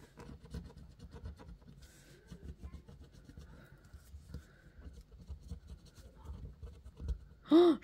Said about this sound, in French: Donc, on va gratter une pastille de Pampan Lapin